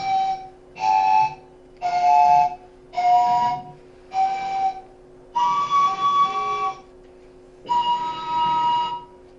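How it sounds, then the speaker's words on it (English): Bolivian panpipes sound two notes at once in short, breathy blown chords, five quick separate bursts followed by two longer held ones, clear and close with no talking. "Those are the different kinds of flutes that the Native Americans from Bolivia play."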